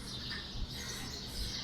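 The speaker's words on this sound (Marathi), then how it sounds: "आपली सकाळ ही पक्ष्यांच्या किलबिलाटाने व्हावी." Birds chirping at morning around a newly set-up home, a steady faint twittering chorus with no talk.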